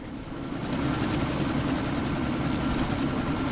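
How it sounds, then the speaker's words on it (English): A helicopter about to lift off in the video game Deus Ex, its rotor and engine making a loud, steady, low throbbing drone that holds close and constant throughout, with no talk over it. "That chopper's about to take off!"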